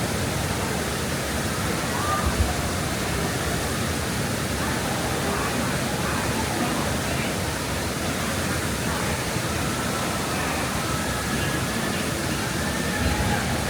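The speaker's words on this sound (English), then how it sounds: "the sound of the running water" Rushing water at a river raft ride in a theme park, a steady broadband roar that fills the whole stretch without break.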